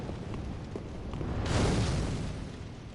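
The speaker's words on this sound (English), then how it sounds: "I guess we're gonna have to pull with fire bombs" A fire bomb bursts in Dark Souls 3, a broad whooshing blast swelling midway through and slowly fading over low game ambience.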